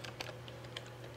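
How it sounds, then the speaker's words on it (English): Someone types on a computer keyboard in a quiet room, giving a few soft, quick, close key clicks over a faint steady hum. "all we have to do is type"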